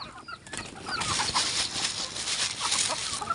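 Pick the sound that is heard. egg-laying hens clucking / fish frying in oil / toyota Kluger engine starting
egg-laying hens clucking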